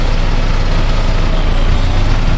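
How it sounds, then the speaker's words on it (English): A bulldozer pushes fill dirt while widening a road, its heavy diesel engine rumbling loud and steady with a broad, continuous roar throughout. "Bulldozer is pushing, trying to fill this area."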